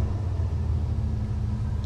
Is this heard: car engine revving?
yes